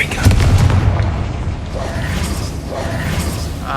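A Confringo spell blast in the Hogwarts Legacy video game, a punchy booming burst followed by crackling mechanical clatter and a few softer pops, loud and close.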